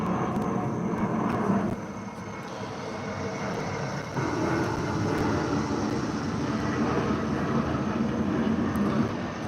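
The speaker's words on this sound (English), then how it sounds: "Wait for this plane to go by." A fixed-wing airplane passes overhead, a steady broad engine roar that fills the whole stretch at a fairly constant loudness, with no talk over it.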